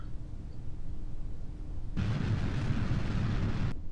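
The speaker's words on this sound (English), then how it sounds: "We'll have an explosion." A rocket explodes in Kerbal Space Program, a sudden broad booming blast that kicks in after a low rumble and holds as a loud roar for nearly two seconds before cutting off, with no talk.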